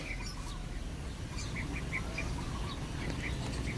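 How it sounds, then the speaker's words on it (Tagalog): Birds circle overhead at a Filipino racing-pigeon loft, their calls and chirps sounding intermittently against a steady outdoor background hum, with no voices. "So may mga ibon na umiikot-ikot dito."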